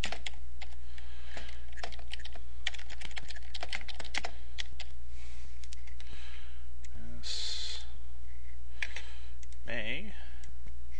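Rapid clicking keystrokes on a computer keyboard while an email address is typed in, steady and close with brief pauses, a low hum underneath and a short voice interjection partway through.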